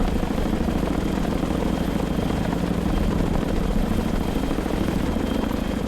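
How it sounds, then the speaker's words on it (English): Chinook helicopter in the naval war game Sea Power, a steady, loud rotor drone with heavy low thumping that stays continuous and even for the whole stretch, with no voices over it. "the admirals again board the Chinook"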